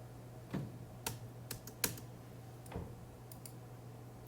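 Typing on a computer keyboard: a handful of scattered, soft key clicks at an uneven pace over a low steady hum, with no voices.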